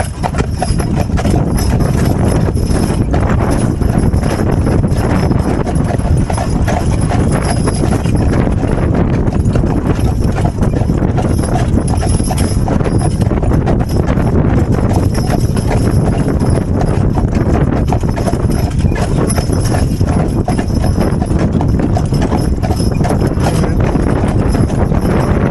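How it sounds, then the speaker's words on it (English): Percheron draft horses pull a wagon, their hooves clip-clopping in a steady, continuous rhythm on a hard road, close and loud, with faint wheel rumble and occasional voices underneath. "get the horses and the wagon"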